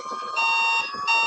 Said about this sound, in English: you hear my phone beeping at first